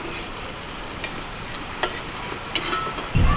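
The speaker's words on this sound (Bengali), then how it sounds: "মালপো একটা একটা করে ভাজতে হচ্ছে" Malpua, a sweet Bengali batter pancake, sizzling steadily in hot oil, a soft continuous frying hiss with a few faint clicks and a brief low bump near the end.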